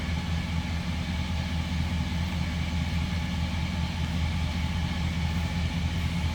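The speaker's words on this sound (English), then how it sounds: "Just a nice little rumble coming out of that flatty." A 1940 Ford Deluxe 5-window coupe street rod's flathead V8 runs steadily with a deep, even low exhaust rumble, close and continuous with no talk over it.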